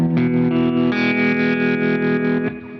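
A lap steel guitar in open D tuning rings out with a sustained chord; the notes shift once and hold with a slight shimmer, close and loud, then fade at the end.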